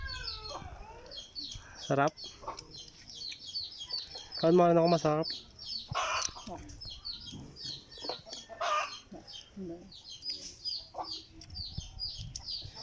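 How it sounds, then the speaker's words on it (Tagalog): A chicken clucks and chirps nearby in scattered calls, under and between people talking while they eat. "May manok siya"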